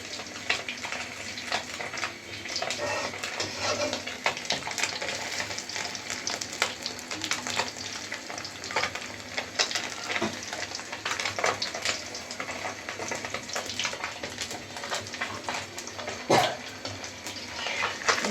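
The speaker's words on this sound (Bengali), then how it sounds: "আমাদের মাছ ভাজা শেষ।" Pabda fish fries in hot oil, giving a steady, moderately loud sizzle with scattered pops and utensil clinks throughout and no talking.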